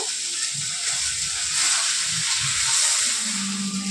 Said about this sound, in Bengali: এটা তো দেখতেই পাচ্ছ খুব সুন্দর করে ভাজছে মা, কড়া কড়া করে ভেজে নিয়েছে